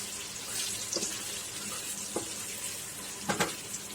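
Masala spices being stirred and roasted over a low flame in a pan for masala fried fish, with a faint steady sizzle and a few sharp scraping stir strokes, including a cluster near the end.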